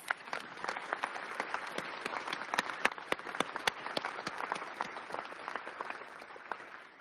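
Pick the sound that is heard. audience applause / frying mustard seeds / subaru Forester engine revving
audience applause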